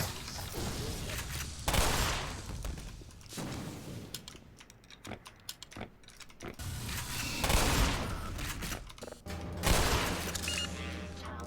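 Gunfire and mechanical clatter in the first-person shooter Black Mesa, bursts of shots and creaking metal filling a corridor fight, loud and dense throughout with brief lulls.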